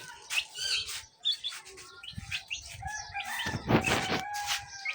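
Young chicks chirp close by as they follow along, with a brighter burst of overlapping peeps near the end and no talking.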